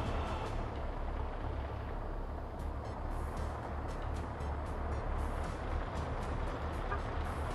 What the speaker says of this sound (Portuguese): Ah, o caminhão, caramba.